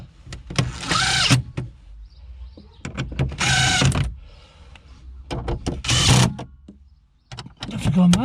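A power driver runs screws home on a 2007 VW Beetle during a service, with three separate bursts of whirring motor whine. Each lasts about a second, with short pauses and light handling noise between them.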